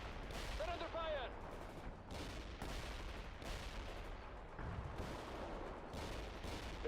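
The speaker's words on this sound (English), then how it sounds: "They're engaging us. We're under fire." Rapid bursts of gunfire from a video game battle, with repeated broadband cracks and volleys over a dense, constant combat din, loud throughout and layered with background game voices.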